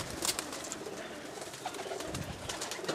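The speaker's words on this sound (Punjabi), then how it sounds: "ਜਹਾਨਜ਼ੇਬ ਬਾਈ ਦੇ ਪਰਵਾਜ਼ੀ ਕਬੂਤਰ" Flying-breed pigeons coo softly amid a busy, hissy outdoor background, the calls faint and scattered with no one speaking.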